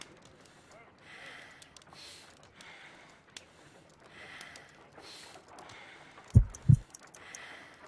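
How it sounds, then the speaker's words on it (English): In the Sherlock Holmes: Crimes & Punishments game, a weak, slow heartbeat gives two heavy, low thumps near the end, following quiet, breathy background noise. "I need to concentrate and count the heartbeats."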